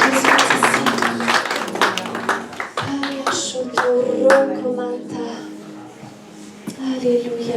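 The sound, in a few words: congregation clapping and acclaiming during church worship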